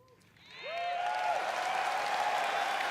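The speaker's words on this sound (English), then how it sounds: "they keep chatting to the people clapping" Audience applause at BlizzCon, a dense wash of clapping that swells in within the first second and holds steady and loud, with a faint tonal whine riding through it.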